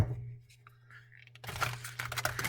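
A Myth & Legends tarot deck is riffled and shuffled by hand, starting with quiet card handling and then a burst of rapid, crisp flicking and crackling cards up close.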